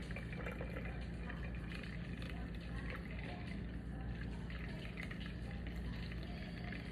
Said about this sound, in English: So I'm just gonna pour it in here.